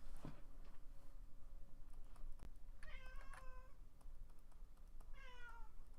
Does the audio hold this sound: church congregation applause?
no